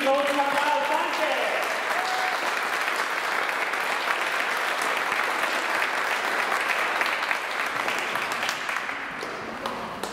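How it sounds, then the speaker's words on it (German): Loud, sustained applause at an award ceremony for an under-11 competition, opening under a speaking voice and then continuing as a dense, even round of clapping that thins slightly at the end. "Ich glaube, das gibt einmal einen riesengroßen Applaus."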